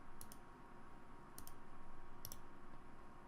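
A few crisp computer mouse clicks, three short separate taps spaced about a second apart, close and fairly quiet over a steady room hum while working through a PowerPoint 2013 slideshow.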